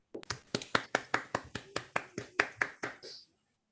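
Steady applause of about a dozen sharp hand claps in quick regular rhythm, fairly close and clear, ending after roughly three seconds, from a participant clapping in an online meeting.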